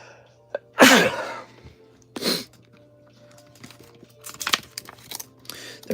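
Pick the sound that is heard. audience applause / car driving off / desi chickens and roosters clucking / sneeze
sneeze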